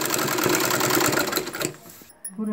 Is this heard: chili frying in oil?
no